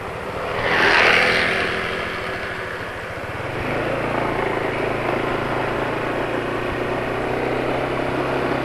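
A motorcycle engine running on Caltex Delo Sport 15W40 oil gives a rough, continuous rumble on the road, swelling briefly early on and mixed with wind and nearby traffic noise.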